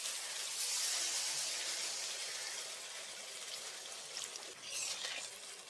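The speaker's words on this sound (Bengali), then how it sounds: "এখন আমি জল দিয়ে দিচ্ছি" Water pours steadily into a pan of spiced fish curry with fried masala, a continuous hissing gush and splash close by, with no voices.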